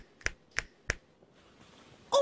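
Three sharp finger snaps come in quick steady succession, close and clear, followed by a quiet pause and a brief burst of another sound at the end.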